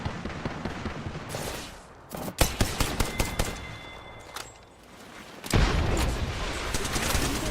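Rapid bursts of gunfire in an Apex Legends firefight, loud dense volleys with short gaps and a brief lull before heavy shooting resumes, close and continuous.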